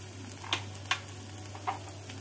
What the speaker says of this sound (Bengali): লঙ্কা গুঁড়ো সামান্য একটু জল দিয়ে মশলাটাকে কষিয়ে নেব